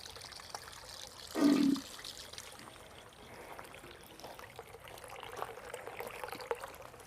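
Water is poured from a container onto potted mums in a fall garden, a short loud gush followed by softer trickling and dribbling as it soaks into the soil, close by and without talk.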